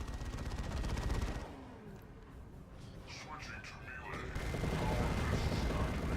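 Troops open fire on orks in the strategy game Dawn of War II: Retribution, a dense, steady rattle of gunfire and battle noise that dips briefly and then returns at full strength.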